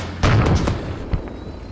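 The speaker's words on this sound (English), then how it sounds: "I think the artillery is coming from this position." Artillery fire in Arma 3 during an alternate-history Falklands battle: a deep booming blast with rolling rumble, followed by a fainter second thump, distant and without speech.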